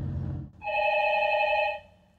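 Telephone ringing in a navy explosive ordnance disposal unit office: a single sustained electronic ring tone lasting about a second, loud and close, following a brief low rumble, with no talk.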